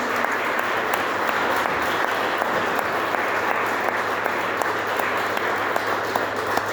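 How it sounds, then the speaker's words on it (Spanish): An audience at a lecture on convent life in Guadalajara applauds, giving dense, steady clapping that holds at an even level throughout with no voices over it. "Les pido que les den otro aplauso a los dos."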